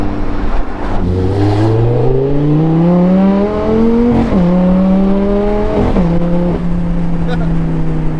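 A 2011 Lamborghini Gallardo Superleggera LP 570-4 engine revs hard and climbs in pitch, broken twice by abrupt, jolting gear shifts before pulling steadily again, loud and close.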